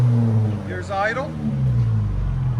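Car engine idling through an aftermarket muffler: a steady low, rumbling drone runs throughout, with a short voice-like sound rising over it midway.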